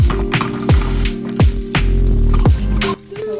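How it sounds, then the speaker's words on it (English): Omena, small dried fish, fry in a pan over low heat, making a steady sizzle with scattered pops and crackles throughout, close and fairly loud, with no voices. "Our omena is frying."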